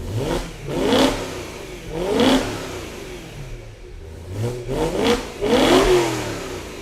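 A car with a stock exhaust is revved hard several times, each burst rising and falling with mostly intake roar from the front. The revs are loud and close, separated by brief idle lulls.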